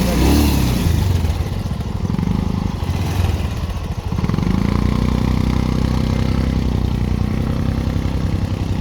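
A motorcycle engine runs loud and close, revving with a rough, throbbing drone that dips briefly midway before climbing again, continuous with no clear speech.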